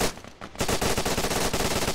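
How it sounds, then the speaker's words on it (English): Rapid automatic gunfire in a competitive team shooting match, a dense, loud burst of evenly spaced shots that starts abruptly after a brief quieter moment and keeps hammering steadily. "He's shooting at Zeusops and he goes down"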